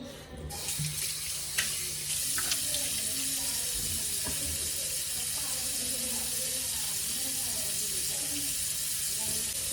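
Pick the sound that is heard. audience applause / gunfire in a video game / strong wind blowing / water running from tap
water running from tap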